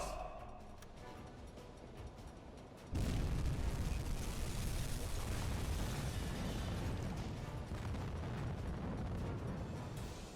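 In the UBOAT submarine game, a torpedo strikes a tanker: a sudden heavy explosion bursts in after a quieter stretch, then a sustained loud rumbling roar continues to the end.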